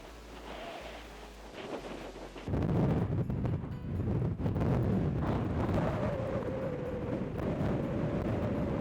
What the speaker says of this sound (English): it's getting breezy here